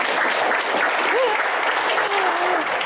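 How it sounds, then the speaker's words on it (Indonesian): Sustained audience applause at a televised Indonesian talk show, dense steady clapping from a large crowd filling the whole stretch, with faint voices and a few cheers mixed in. "Kita berikan tepuk tangan yang paling meriah untuk Bapak Sanetiar Burhanuddin"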